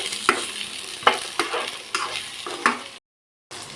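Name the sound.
onion, coriander, chillies, garlic, ginger, cinnamon, cloves frying in pan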